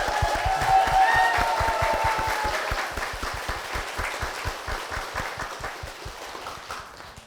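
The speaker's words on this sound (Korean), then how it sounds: "우리 목사님과 교회를 위해서 힘찬 박수 부탁드리겠습니다" A church congregation at Hanyang First Church claps loudly and steadily. The strong rhythmic beats are partly in unison, and the applause gradually fades toward the end.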